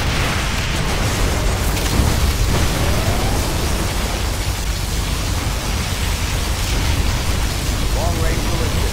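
A particle cannon fires in the C&C Generals Zero Operation Firestorm mod, a continuous loud roaring blast of noise with booming bursts that fills the whole stretch, with battle sounds and unit voices mixed in.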